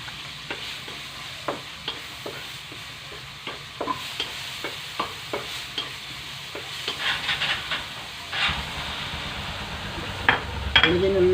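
Chopped onions frying and stirred in a hot pan for bangus sisig, with repeated scraping strokes of a utensil over a steady sizzle, ending in louder clattering stirs near the close.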